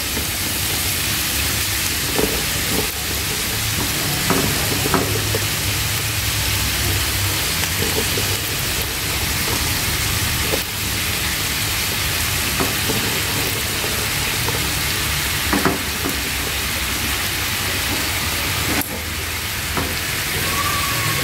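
Bean sprouts and chives stir-frying in a seasoned pan make a loud, dense, constant sizzle with occasional faint scrapes and knocks of stirring, and no talk throughout.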